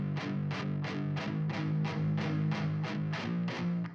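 A distorted rock guitar plays a steady run of evenly spaced, repeated chords through amp simulation, with reverb on the guitar bus washing out each hit; loud and alone, no voices.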